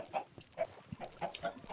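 Chickens in a coop in Minecraft give a series of short, soft clucks at a quick, irregular pace, faint and close, with no one talking.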